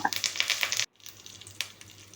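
Mustard seeds, fenugreek and dried chillies crackle in hot coconut oil, sputtering in rapid, sharp pops that briefly cut out before a quieter, scattered sizzle resumes.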